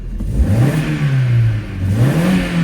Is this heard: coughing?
no